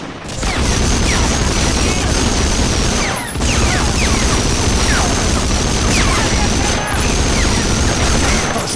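Dense gunfire crackles almost nonstop in Medal of Honor: Frontline, a loud wartime firefight of overlapping shots. Only two brief lulls break it, and a voice talks now and then over the din.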